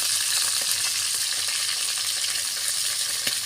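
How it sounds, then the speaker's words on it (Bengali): Chopped onion sizzles steadily in a hot pan with prawns, with occasional soft scrapes and taps as the mixture is stirred, close and continuous. "একটু নাড়াচাড়া করব। বন্ধুরা, পেঁয়াজ কুচি দিয়ে দেব।"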